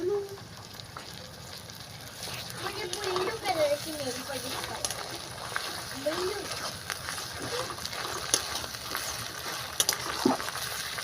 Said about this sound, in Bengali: আদাটা একটু ভাজা হয়ে যায়